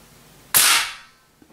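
A single sharp, loud crack of an Airforce Condor air rifle firing a pellet through a chronograph, a sudden burst that decays over about half a second into quiet, with no talk.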